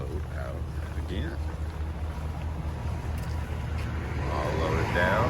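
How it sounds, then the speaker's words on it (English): Steady low engine drone of a boat motor running throughout on a duck hunting trip, with water and wind noise and some voices talking faintly over it. "Taking the boat out again."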